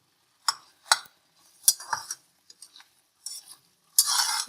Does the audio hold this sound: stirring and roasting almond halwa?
yes